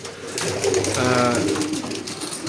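Older racing pigeons coo softly in a breeding loft, a low rolling coo rising and fading once across the clip, heard close behind someone talking.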